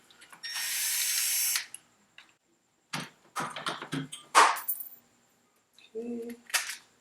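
Ratchet working bolts loose on a Suzuki LTZ 400 ATV engine during reassembly, with a long whirring spin, then short bursts of quick clicking ratchet strokes separated by pauses and a few metallic clinks.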